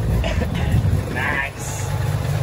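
Mazda RX-7 FC with a rotary engine running, its air intake heard up close as a steady low rumble, with people talking over it.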